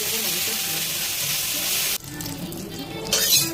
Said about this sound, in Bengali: রিফাইন তেল দিয়ে দিলাম কড়াইতে, এবার দিলাম শুকনো লঙ্কা, কালো সর্ষে দিলাম